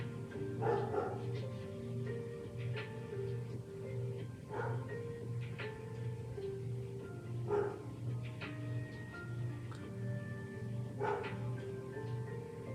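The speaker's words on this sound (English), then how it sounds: "he is really barking" A dog barks repeatedly in short, evenly spaced woofs, faint and somewhat distant, over a steady low hum indoors.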